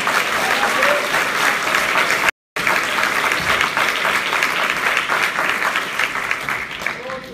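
A church congregation claps loudly and continuously during an evening worship service, with crowd noise mixed in. A brief dropout in the middle is followed by sustained applause that fades slightly toward the end.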